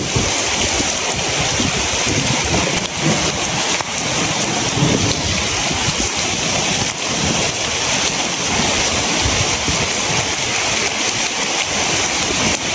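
Heavy rain pours steadily around a house as floodwater rises, a loud, unbroken wash of hiss and splatter with no pauses and no voices.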